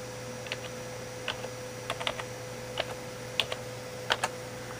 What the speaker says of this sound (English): type your password, okay